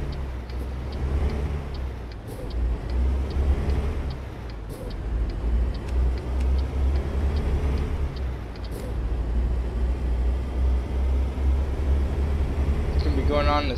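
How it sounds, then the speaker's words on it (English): A fire truck engine in American Truck Simulator, a steady low rumble that runs throughout, with faint ticking and brief air hisses. Someone talks over it. "Come on, start, you darn truck."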